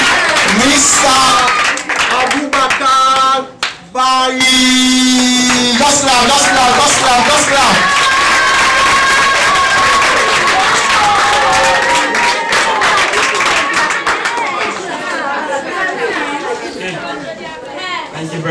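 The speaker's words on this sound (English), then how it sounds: "So just clap again, please. Just clap. Oh my God, clap." An audience at a school launch event claps and cheers in a sustained, dense burst, with loud crowd chatter and voices mixed throughout.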